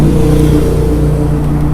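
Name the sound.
road traffic noise, car accelerating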